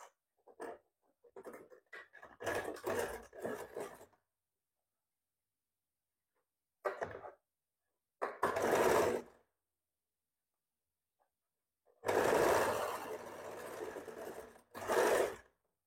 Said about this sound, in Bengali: আমি সাইড থেকে সেলাই করে দিচ্ছি